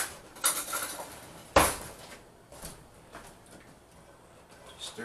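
Spoon stirring an apple fritter mixture with cinnamon in a pot, heard as a few close clinks and scrapes against the metal, one sharp knock, then quieter scraping.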